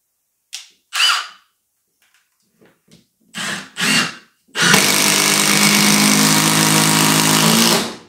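A Milwaukee M18 FID3 cordless impact driver drives a screw: a few short bursts of the motor starting and stopping, then a long loud continuous hammering rattle lasting several seconds, close by, with no talking.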